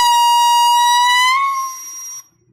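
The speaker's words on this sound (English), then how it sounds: "Paul, we're ringing the air horn for the third time tonight." Air horn blast during a live vinyl record sale, a single loud sustained tonal blare of about two seconds with a slight drop in pitch partway through before it cuts off.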